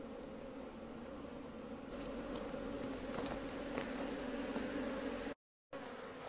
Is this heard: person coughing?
no